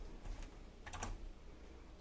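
Several quick keystrokes on a computer keyboard enter a database query, a short close burst of clicks followed by quiet.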